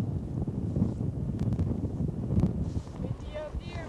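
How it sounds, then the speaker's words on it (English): Wind blows hard over a mountain ridge near Mount Dalhousie, pressing a low rumbling roar into the microphone as a person talks over it. "Windy up here"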